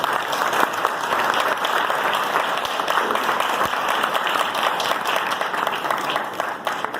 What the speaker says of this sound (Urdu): کیوں نہ ہم ایسے پاک روح کے لیے تالیاں